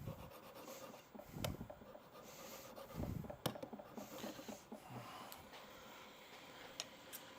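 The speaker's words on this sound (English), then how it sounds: "So I'm going to sharpen it real quick." A universal mandrel bottle opener is sharpened in quiet, scraping rubs and rasping strokes with a few sharp ticks, close and soft, with no speech.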